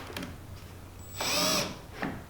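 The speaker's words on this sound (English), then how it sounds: "let's go ahead and drill this out here" A power drill bores into a Polaris Ranger panel in one short, loud, whining burst of about half a second, set between faint handling clicks.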